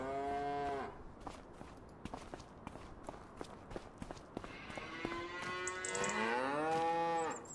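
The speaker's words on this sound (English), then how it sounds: "Cattle need fed again." Cattle moo loudly at the start and again near the end in the farming game Farming Simulator 25, with a run of hoof-like footsteps thudding in between.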